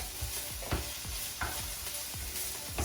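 Mushrooms and red pepper slices stir-fry in a pan, a steady sizzle broken by rhythmic scraping strokes of a spatula, close and clear.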